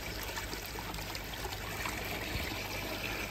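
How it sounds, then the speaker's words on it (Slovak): Filtered water trickles steadily back into a homemade garden pond from a pipe outlet, a continuous close splashing dribble with no talk. "A vlastne tu na vyčistená voda vyteká naspäť."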